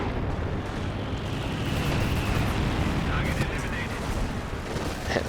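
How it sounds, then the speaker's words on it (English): Artillery gun firing in Company of Heroes 2, a dense, continuous rumble of heavy battlefield fire and blasts, loud and sustained, with a voice talking over it. "Nick's artillery gun is firing currently"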